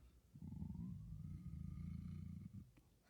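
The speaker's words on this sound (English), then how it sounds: "Then it purred." A cat's purr rolls steadily and close, a low continuous rumble with a faint rising whine above it, set into a read-aloud scary Halloween story about a black cat sitting by the fire.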